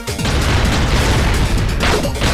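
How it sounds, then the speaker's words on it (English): Explosions in the platformer Shantae: Risky's Revenge, a loud continuous booming rumble with crackling bursts that fills the whole short moment. "we might want to deal with all those explosions"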